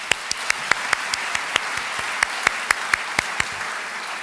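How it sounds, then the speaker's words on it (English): An audience applauding a speaker's introduction, a steady wash of clapping with distinct sharp individual claps standing out throughout. "Let's give a clap for that."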